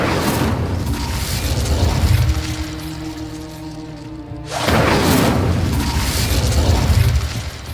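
A fire spell cast in the Hogwarts Legacy video game gives a loud, roaring burst of flame, a sustained rushing whoosh that dips briefly and then swells again, with dense game sound layered throughout.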